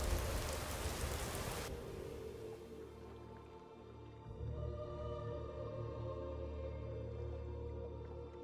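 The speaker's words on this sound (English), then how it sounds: "Why is it always raining?" Steady rainfall in the Skyrim video game, a dense hiss that is loud for the first couple of seconds, then softens into gentle continuous rain with low rumbling underneath, no voices.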